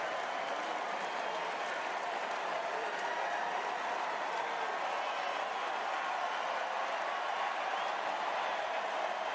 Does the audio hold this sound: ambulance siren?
no